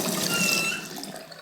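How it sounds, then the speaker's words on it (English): Water splashes and runs into a sink in the video game Rue Valley, a brief steady rush that tails off after about a second. "Let's splash some water."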